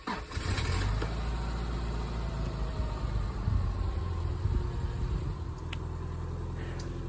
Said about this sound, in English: I just fired up my Subaru without turning on any engines